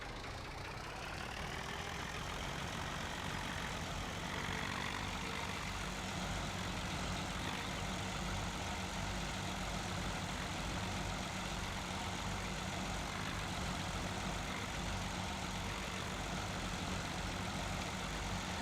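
Tractor engine idling in Farming Simulator 17, a steady low rumble holding evenly throughout at moderate loudness with no talk over it.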